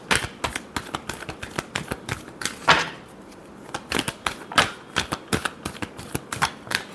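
Tarot cards being shuffled by hand, a steady run of quick papery riffles and flicks with a short lull midway, close and fairly soft.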